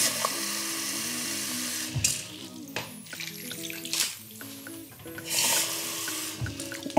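Water is poured into a pan holding potatoes, vegetables and olive oil, giving a continuous splashing pour heard close up, with a background hum and no talk.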